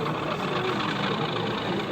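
A model railway diesel engine at a model railway exhibition gives a steady, continuous drone with a faint mechanical knock, running evenly and fairly close throughout, with no talk over it.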